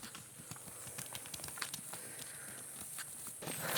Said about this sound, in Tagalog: So ayan yung maliit namin na na kabayo, si Darak.